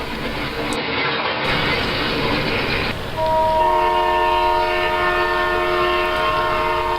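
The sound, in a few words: diesel coal train passing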